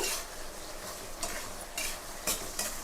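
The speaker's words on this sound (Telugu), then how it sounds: "ఈ టమాటా మగ్గేదాకా మనమైతే బాగా వేపుకోవాలండి స్టవ్ హైలో పెట్టుకొని వేపుకోవాలండి" Tomatoes fry in a pan over high heat for a stuffed brinjal curry, a constant sizzle broken by several sharp scraping stirs of a spoon, close and with no voices.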